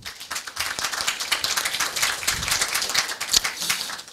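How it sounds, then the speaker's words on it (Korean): Applause at a Korea University KU-KIST graduate school degree ceremony, a hall of people clapping in crisp, irregular claps that build into a busy, moderately loud patter. "학위 수여를 받은 졸업생 여러분에게 다시 한번 큰 박수 축하해 주시기 바랍니다"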